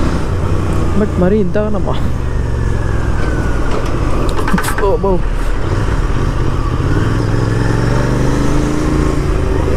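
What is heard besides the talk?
road traffic at a diversion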